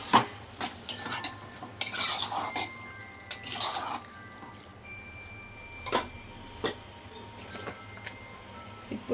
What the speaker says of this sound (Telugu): ఇప్పుడు ఇందులోనే నేను ఫ్రై చేసుకున్న ప్రాన్స్ వేస్తున్నా